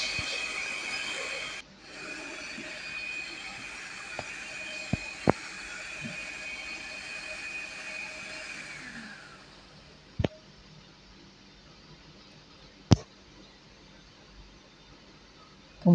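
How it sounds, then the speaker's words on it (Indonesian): An electric hand mixer beats brownie batter at high speed, a steady whirring motor whine running for about nine seconds before stopping, followed by a few sharp clicks and knocks in a quieter room. "kemudian kita mixer dengan kecepatan rendah dulu sebentar, baru kecepatan paling tinggi,"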